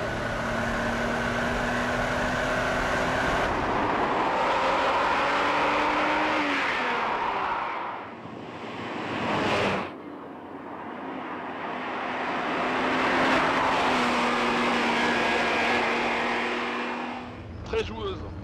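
A Ferrari Testarossa's V12 pulls hard on a test drive, rising through the revs in long loud climbs with a gear change midway and a brief lift before building again, heard from inside the car.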